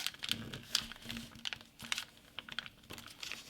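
Paper creased and folded by hand while making an origami turtle, with reverse and squash folds: a close run of crisp crinkles, rustles and soft taps, irregular and fairly quiet, with no talk.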